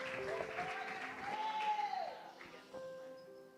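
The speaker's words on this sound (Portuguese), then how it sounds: "Aplauda o Senhor pela palavra e pela serva do Altíssimo" A church congregation applauds during a morning service, a steady wash of clapping with a sustained musical tone or held voice running beneath it, fading slightly toward the end.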